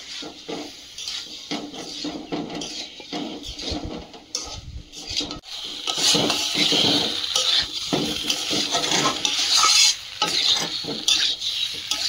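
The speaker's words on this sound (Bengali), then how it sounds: "ডিমটা আলুর সঙ্গে দিয়ে একটু কষিয়ে নিয়ে জল দিয়ে দেবো" Egg and potato pieces sizzle in a hot pan as a utensil scrapes and stirs them, with irregular metallic clinks and bursts of frying that grow louder partway through, no talking.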